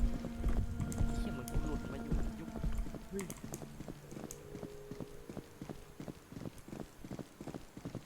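Footsteps clop along in the Mimic horror video game, a steady run of distinct steps under gamer voices talking, with quieter steps trailing off toward the end.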